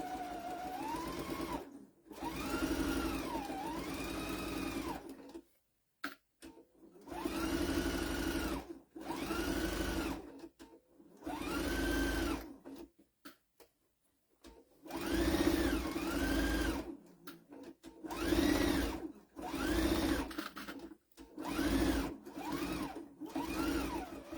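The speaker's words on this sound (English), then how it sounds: "When it threads your machine for you." A sewing machine threads itself and then runs in repeated bursts, each a steady mechanical whir lasting a second or two, separated by short silent pauses, close and clear with no talking.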